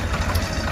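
Steady low idling rumble of a tractor engine running in a farm field, a continuous even drone with no talk over it.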